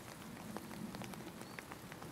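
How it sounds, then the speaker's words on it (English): Steady rain pattering on a surface, with scattered individual drops ticking through a constant soft hiss. "And Scotty just getting a little sloppy here in the rain"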